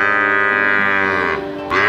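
A water buffalo lets out one continuous, loud, low bellowing moo that wavers slightly in pitch. Nothing else is heard behind it.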